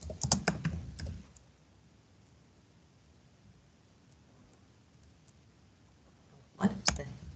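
Computer keyboard typing in two short clusters of quick, close keystrokes at the start and end, separated by several seconds of quiet room hiss.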